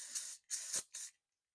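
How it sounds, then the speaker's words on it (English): Three short bursts of aerosol brake cleaner sprayed onto motorcycle brake pads during maintenance on a KTM EXC 300 TPI, each a close, loud hiss separated by brief pauses, with the last burst slightly shorter. "I'm just gonna spray them again with the cleaner"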